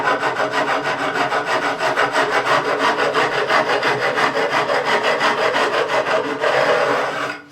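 A file rasps along the edge of a Telecaster guitar's wooden fingerboard, loud close strokes in a fast steady rhythm for several seconds before stopping, with no voices.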